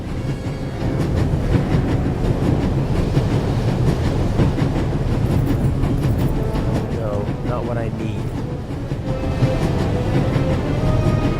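Train interior ambience in the video game The Raven Remastered: a steady, loud rumble of a moving carriage with rhythmic wheel clatter throughout, with voices heard under it.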